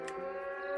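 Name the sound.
siren sounding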